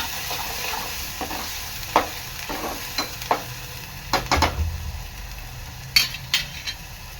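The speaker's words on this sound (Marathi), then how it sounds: "वाटण चांगलं तेलात शिजून घ्यायचं आहे" Ground masala paste cooking in oil for a sour curry, with a soft continuous sizzle broken by repeated spoon scrapes and taps against the pan, nearby and fairly clear, without speech.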